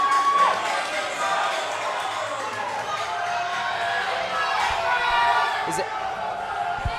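Spectators at a fitness competition event in Boston keep up a loud, steady roar of cheering and shouting, with a commentator talking over it and a sharp bang near the end.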